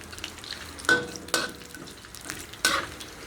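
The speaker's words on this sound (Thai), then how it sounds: "น้ำมันร้อนแล้วค่ะ เราก็ใส่แคบหมูลงไปค่ะ" Pork rinds dropped into hot oil crackle and sizzle, with several sharp bursts of spattering and stirring clatter over a low, steady frying hiss.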